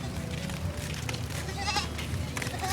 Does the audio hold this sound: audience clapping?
no